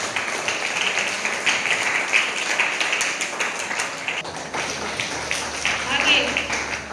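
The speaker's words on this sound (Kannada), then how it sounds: "ಅದಕ್ಕಾಗಿ ಎಲ್ಲ ಪತ್ರಕರ್ತರಿಗೂ ಒಂದು ಜೋರಾದ ಚಪ್ಪಾಳೆ ಬರಬೇಕು" An audience claps loudly for local journalists at a press and environment day celebration, a dense, even patter of hands filling the hall with no break.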